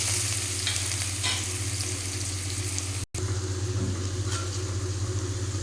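Curry leaves and onion frying in hot oil, a continuous bright sizzle with stirring scrapes over a steady low hum, broken by a brief gap midway.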